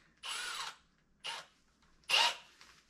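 A power drill bores through a wooden floor in three short bursts of whining and grinding, each about half a second long, separated by brief quiet pauses. No one speaks.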